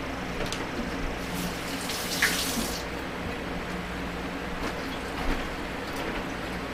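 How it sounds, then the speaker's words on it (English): Water runs steadily from a tap during handwashing in a home kitchen while canning dill pickle gherkins, a constant close splashing hiss with a couple of brief louder splashes. "I gotta wash my hands, guys."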